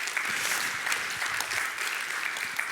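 An audience at a Unity developer conference talk claps steadily, a dense continuous wash of many hands filling the room without letting up, heard alone with no speech.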